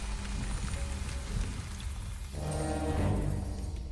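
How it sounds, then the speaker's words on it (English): Steady hiss of rain falling over a jungle in the video game Jurassic Park: Operation Genesis, a dense patter that swells slightly louder toward the end. "In May, the rains came."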